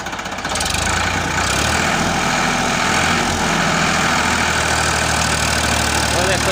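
A Farmtrac 60 tractor engine idles close by in a field, a steady, loud, throbbing diesel rumble that holds without letup for several seconds.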